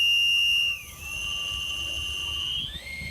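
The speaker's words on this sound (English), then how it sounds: "Go back to the Hyperwhistle." A Hyperwhistle driven by compressed air shrieks loudly, then shifts into a slightly warbling, wavering high pitch that holds steadily before bending upward near the end.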